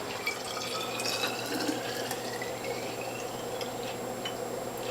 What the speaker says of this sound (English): We'll pour this into the container and fill more bottles of juice.